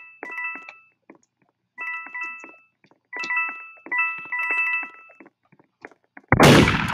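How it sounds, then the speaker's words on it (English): A sharp, loud gunshot from a video game cracks out once near the end, following a string of bright, chiming electronic tones in short repeated bursts. "Someone tried to shoot me."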